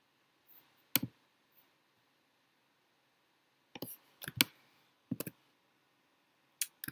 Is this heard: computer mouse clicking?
yes